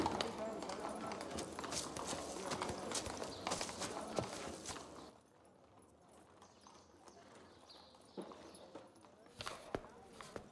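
A horse walks with steady clip-clopping hooves on a hard surface, clear and fairly close, under a busy background of voices and ambient noise that quiets halfway through.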